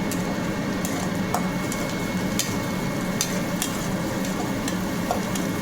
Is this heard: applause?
no